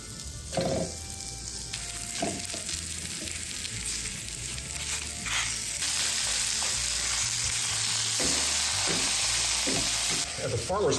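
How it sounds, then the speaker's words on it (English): Pork sizzles steadily while browning in a hot pan for chili, a continuous crackling hiss with occasional scrapes and stirring sounds, close by. "while the onions are browning, I'm gonna start browning this pork"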